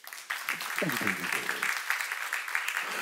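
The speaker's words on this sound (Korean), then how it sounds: "믿는 사람 박수 쳐보세요" A church congregation breaks into clapping after a brief pause, scattered then sustained applause with a voice speaking over it early on.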